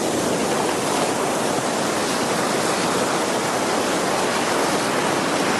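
Ocean waves at Calangute Beach in Goa surge in a loud, dense, continuous roar of broadband surf that holds steady throughout with no voices.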